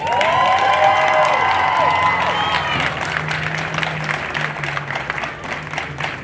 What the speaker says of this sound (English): if you guys can give her a round of applause